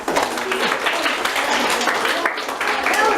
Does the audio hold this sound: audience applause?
yes